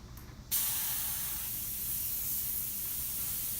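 A spray gun lays the final primer coat onto a Jackson RR3 body, a loud steady hiss that starts abruptly and continues unbroken, close to the microphone with no talking.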